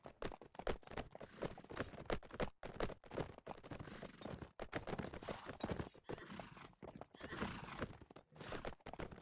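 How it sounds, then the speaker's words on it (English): Horse hooves clip-clop in a video game cavalry battle drill with troop formations, a dense, busy patter of many rapid hoof strikes rising and falling steadily throughout, with no talking. "I should be able to wheel my horse in and out."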